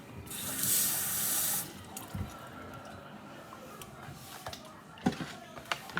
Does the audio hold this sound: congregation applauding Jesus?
no